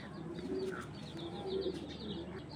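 Soft repeated cooing from army pigeons, low throaty calls with light chirps from nearby birds in a busy loft.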